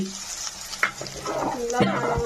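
Potatoes frying in a pan for a simple home-style potato fry, an even sizzle with a few clinks and stirring scrapes, close by, brief and without speech.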